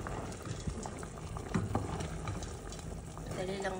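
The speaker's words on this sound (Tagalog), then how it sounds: "Kumukulo na." A pot of mung bean soup with chicken bubbles steadily at a boil, soft continuous gurgling up close, with a few faint clinks.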